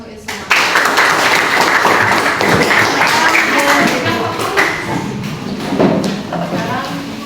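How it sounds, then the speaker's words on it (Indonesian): Students clapping in a classroom during a group guidance session, a burst of hand claps that starts abruptly and carries on with uneven rhythm, mixed with thumps and overlapping voices. "tepuk tangan untuk Isma."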